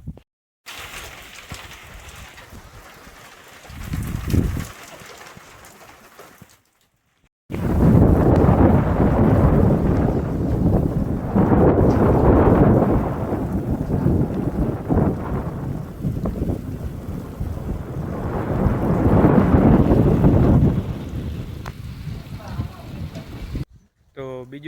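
A rainstorm with wind in a rural field, with heavy rain and gusts roaring loudly against the microphone for most of its length after a quieter opening, and occasional low rumbles.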